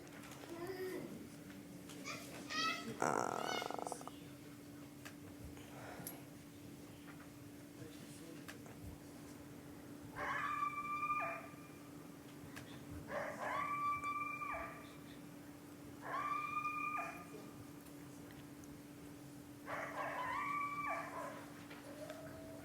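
Coyotes howling and calling to each other outdoors, several separate rising and falling vocal bursts spaced a few seconds apart, faint to moderate in level over a steady low hum, after a brief louder sound at the start.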